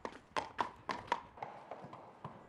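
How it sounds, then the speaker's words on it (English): Horse hooves clip-clop on the ground in Hungary as the animal slows to a stop at a training area; about ten steady hoofbeats, loud at first, then softer and more spaced as it halts. "The horse stops at a training area."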